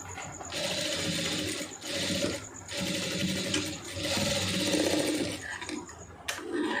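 A sewing machine stitches a lace neck design on a garment, running in steady close bursts with brief pauses between runs and a short clack near the end; no one speaks.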